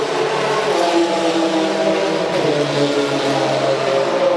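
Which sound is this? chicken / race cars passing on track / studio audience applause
race cars passing on track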